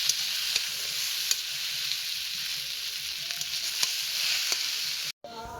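Chicken pakora-style chowmein fries in a pan while being stirred, a steady close sizzle broken by sharp scraping clicks of the utensil at irregular intervals, briefly cutting out near the end, no talking.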